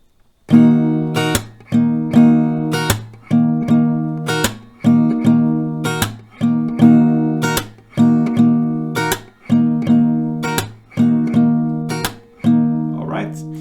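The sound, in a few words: acoustic guitar strumming with clap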